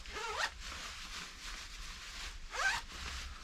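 Zipper on a winter camping jacket is pulled in two quick, close, crisp rasps about two seconds apart, with quiet background between them.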